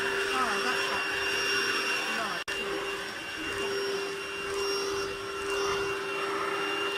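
A cordless Lidl Hoover vacuum cleaner runs over carpet with a steady high whine and whooshing airflow, close up, dipping briefly once as it cuts out momentarily, with a voice speaking softly underneath.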